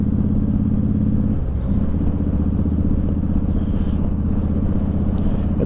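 A 2011 Honda VT1300X Fury V-twin motorcycle rumbles loud and close while riding, a steady low throbbing putt as it lugs through the gears, with a brief dip in the beat partway through.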